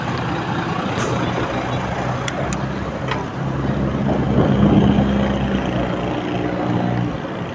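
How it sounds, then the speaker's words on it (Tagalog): A truck rumbles along a road in Antipolo, Rizal, with a deep steady drone that swells midway, punctuated by short sharp hisses like air brakes. "Truck."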